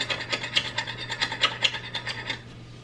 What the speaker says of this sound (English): Sometimes there's things that get on the cooktop that kind of bakes on a little bit, and you have to scrape it up very carefully.